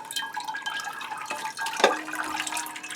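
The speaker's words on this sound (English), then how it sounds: "So what I do to flush a pot is I pour water in." Pure water being poured into an orchid pot to flush it: quiet trickling and dripping with a few small splashes, close by and faint, with no voices.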